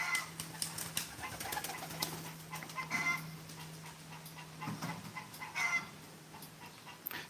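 A hen clucks in bursts after laying an egg, a broken run of calls at moderate distance, with other birds calling and a steady low hum underneath.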